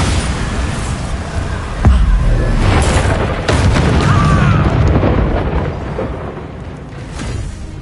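The Bombardo spell in Hogwarts Legacy detonates as a loud, booming magical blast with a long rumbling tail, mixed with other spell crackles and battle noise.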